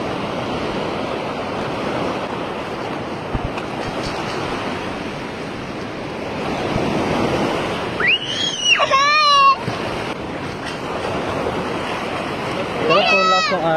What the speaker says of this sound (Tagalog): Pero kung lakas ng alon.